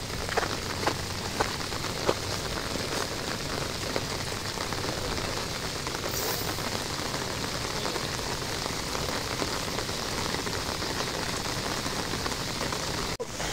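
Steady, dense rain pours down at a milkfish fishing spot in Valenzuela City, a continuous close hiss of drops hitting surfaces for the whole stretch, with no voices.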